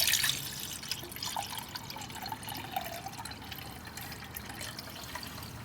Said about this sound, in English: get my water bottle, this has a litre in, and pour some water into my cup.